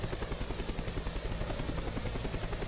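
An Agusta-Bell AB 212 helicopter in Flight Simulator X makes a steady, loud, close rotor thump with fast rhythmic blade chop over a dense engine whine.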